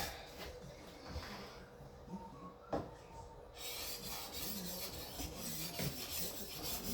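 Steady rubbing rasp of a large paper machine knife being sharpened on a stone, its edge carrying a couple of nicks; continuous back-and-forth strokes close up, with a few sharper clicks along the way.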